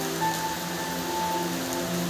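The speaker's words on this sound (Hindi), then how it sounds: "तो बारिश अभी भी रुका नहीं है" Rain falls steadily on a river island in Majuli, a soft even hiss that lasts the whole moment, with a faint tonal hum underneath and no voices.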